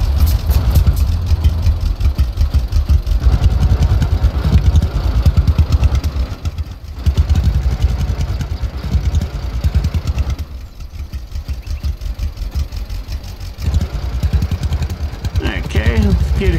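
A tractor engine chugging in the game Lumberjack Dynasty, a loud, close, steady throbbing with brief dips, while someone talks over it.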